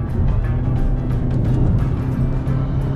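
A Honda City 2020 with a petrol engine and CVT pulls away under throttle, giving a steady, close, continuous low engine drone and road rumble with no speech over it.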